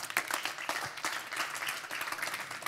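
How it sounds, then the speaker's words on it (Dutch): Audience applause for Onno Ruding at a Room for Discussion interview event: many hands clapping in a dense, steady wash that stays fairly even throughout, with no talking over it. "Mag ik een hartelijk applaus voor de heer Ruding."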